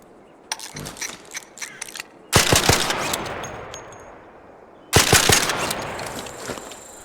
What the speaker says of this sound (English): There's no reverberation when you use the silencer 3. Listen.